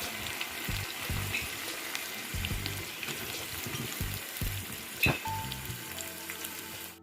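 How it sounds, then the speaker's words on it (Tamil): Onions frying in a pan after dried anchovies (nethali karuvadu), a steady close sizzle with soft crackles and one sharp clink midway, no voices. "நான் இப்போ வெங்காயம் போட்டு கொடுக்க போகிறேன்"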